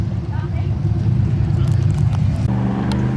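An Ultra4 Limited Class off-road race car tearing out on its lap at a Shamokin, Pennsylvania race, a loud, close, steady engine roar that shifts pitch as it passes, with a voice talking over it.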